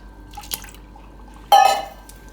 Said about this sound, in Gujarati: દૂધ નાખીશું થોડુંક.